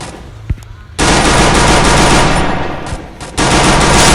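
Rapid automatic gunfire from a 4v4 online shooter video game, loud, close bursts with a short pause near the start, then sustained firing broken by a brief gap.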